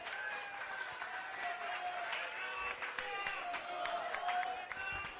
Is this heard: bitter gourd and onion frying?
no